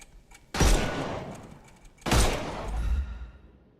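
Gunfire in the video game Sherlock Holmes Chapter One, heard as two loud, booming shots or short bursts about a second and a half apart, each with a decaying tail.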